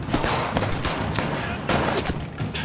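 Heavy gunfire in the game As Dusk Falls: loud, overlapping volleys of shots in uneven clusters over a noisy firefight.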